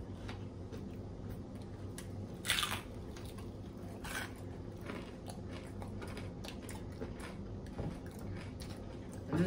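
Close, crisp crunching of Chinese food being chewed, with sharp louder bites now and then over a soft background.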